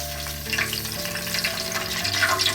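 Pork belly pieces, skin side down, frying in moderately hot oil for crispy lechon kawali, giving a steady, close, full sizzle with crackling pops throughout and no speech.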